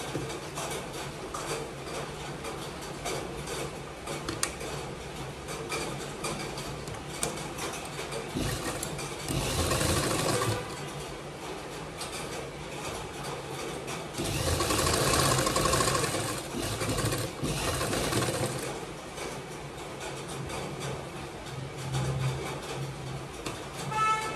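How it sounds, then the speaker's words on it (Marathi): An electric sewing machine runs continuously, stitching a double seam along the shoulder of a little girl's long gown, a steady mechanical whirr that swells louder in two stretches. "डबल शिलाई मारून घ्यायची"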